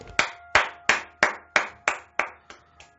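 Nine sharp hand claps in an even, steady rhythm, crisp and close, each ringing out briefly before the next, with nothing else heard.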